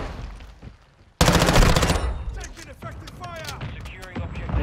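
A Bas-P submachine gun fires a rapid full-auto burst in Modern Warfare 2, loud and close, then fades into scattered shots and game noise while a voice talks.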